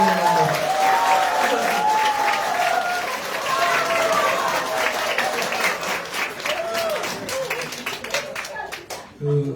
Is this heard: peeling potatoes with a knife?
no